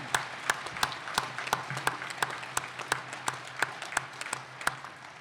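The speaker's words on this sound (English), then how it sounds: "You can clap now." A college commencement audience at Ripon College's 2014 ceremony applauds graduates receiving Bachelor of Arts degrees, a steady wash of crowd clapping heard from some distance, with a few sharp individual claps standing out.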